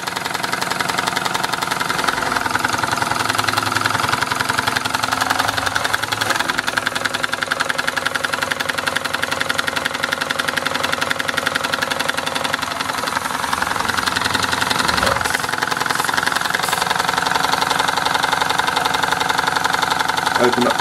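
Mamod SE3 model toy steam engine running, a loud, dense, continuous mechanical chugging and rattling that holds steady throughout at close range.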